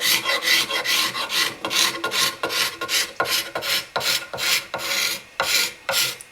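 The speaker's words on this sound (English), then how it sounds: "Well, scraping it off with, believe it or not, just a ruler." An old axe head is scraped with a plain ruler, giving steady, rasping strokes in a regular back-and-forth rhythm, close and loud with no talk.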